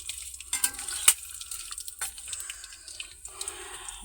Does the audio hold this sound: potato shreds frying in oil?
yes